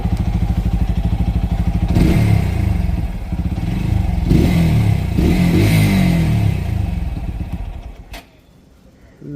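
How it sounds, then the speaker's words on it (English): A TVS Apache RTR 200 4V motorcycle idles with a rapid pulsing beat close by, then revs hard several times, its exhaust climbing and falling in loud surges before dropping away to near silence at the end. "Lovely sounding bike, man. The exhaust note on this thing is just wow."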